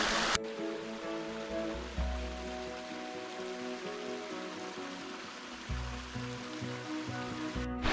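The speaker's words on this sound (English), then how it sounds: "we're passing by the first waterfall on this hike" A waterfall on a hiking trail to the Grotto from Circle X Ranch in the Santa Monica Mountains gives a steady, rushing wash of water, with a few low thumps from nearby handling.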